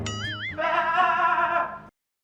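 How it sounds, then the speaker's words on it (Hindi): A goat bleats in a comedic Hindi TV household scene: one long, loud, wavering nanny-like bleat heard up close and alone, ending abruptly. "अम्मी बकरा आ गया।"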